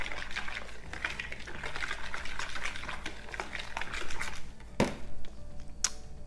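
Sour cream, mayonnaise and buttermilk are stirred together in a bowl for a dressing, giving a wet, squelching swirl of close, repeated mixing strokes, with a sharper clink near the end.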